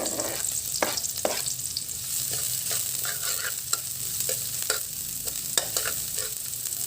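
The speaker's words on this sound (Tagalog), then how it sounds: "Umpisa na natin mag-gisa. Sibuyas muna. Sunod na po natin ang bawang." Chopped onion and garlic sautéing in a pan for seafood chami, with a steady sizzle of frying under repeated scraping and stirring strokes from a utensil, close and clear with no talking.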